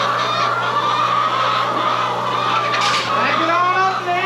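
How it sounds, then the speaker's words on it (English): A chicken clucks from inside a skid steer loader on a farm at feeding time, with short fowl calls breaking over a constant engine hum. "there's a chicken in the skid steer loader"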